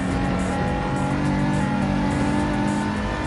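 A BMW race car engine in a TCR racing video game drones loud and steady, holding a constant high rev with no talking over it.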